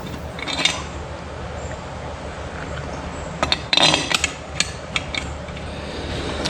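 A ratchet snugs down bolts on a 1996 Sea-doo GTX 787 engine, with a few sharp clicking bursts and metallic taps close by over a low background hum.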